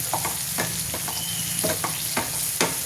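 A dry goat-brain bhaji is stirred in a pan over a steady low sizzle, with a spoon scraping and tapping against the metal in irregular strokes, close and fairly loud with no voices.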